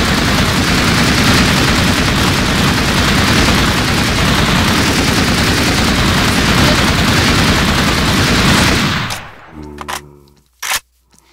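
A .50 caliber gun in the Minecraft Flan's Mod video game fires a loud, dense stream of automatic shots for about nine seconds, then cuts off, leaving a few isolated sharp clicks and bangs in near silence.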